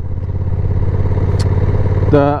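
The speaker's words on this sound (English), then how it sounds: "push it from third to second" A 2022 Honda NT1100 motorcycle rumbling steadily at close range with a throbbing engine note, shifting from third to second gear near the end with a quick rise in revs.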